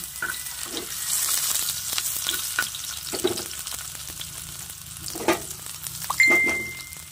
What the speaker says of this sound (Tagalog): Tapos luto tayo ng ating talong guys, gisadong talong.